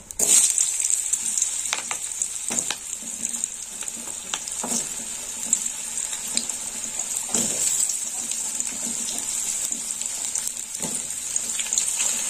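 Potatoes fry in a hot pan with a steady, close hiss of oil, broken every few seconds by brief scraping clicks of a spatula stirring them.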